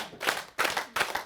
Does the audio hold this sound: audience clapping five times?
yes